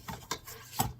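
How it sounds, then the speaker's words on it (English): A spatula scrapes down the sides of a mixing bowl of lemon squares batter in three short, faint rasping strokes, close and quiet. "I'm going to scrape down the sides"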